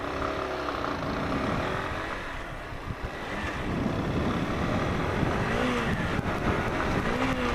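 A motorcycle engine passes by on the street, a rough droning motor rising and falling in pitch as it goes past, fairly loud against steady wind noise on the microphone, with no talking.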